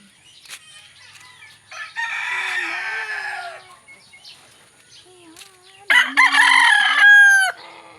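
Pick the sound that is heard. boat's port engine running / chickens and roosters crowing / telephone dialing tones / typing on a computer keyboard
chickens and roosters crowing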